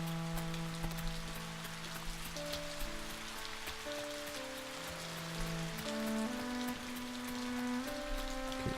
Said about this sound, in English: right now it's so rainy and it'd be tough to see anything anyway